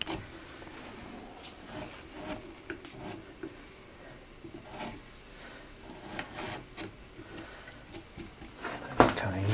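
A hand carving tool scrapes and rasps on wood while a Santa decoration's face is shaped, soft irregular strokes at close range, with someone talking over them.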